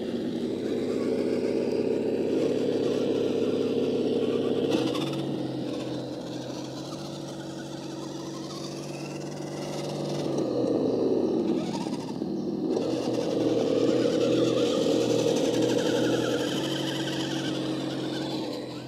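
Simulated engine sound from a GT Power sound system on an MN999 1/10 scale RC crawler truck: a continuous droning idle that rises and dips in pitch as if revving, steady and close, with no talking.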